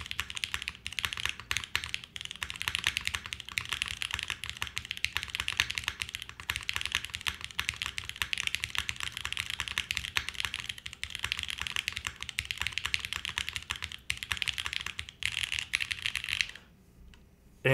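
Rapid, continuous clacky keystrokes from a mechanical keyboard built with a PC plate in a top-mount layout, close and fairly quiet, with a brief pause near the end.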